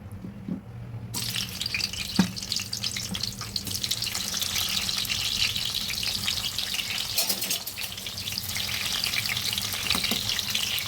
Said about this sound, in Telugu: ముందుగా మనం కట్ చేసి పెట్టుకున్నాం ములక్కాయలని నూనెలో డీప్ ఫ్రై చేసుకుందాం.